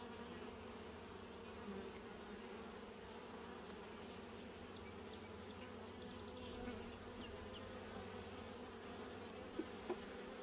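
Honeybees buzz steadily and softly during a backyard hive inspection, a constant low insect hum with no talking and a couple of faint clicks near the end.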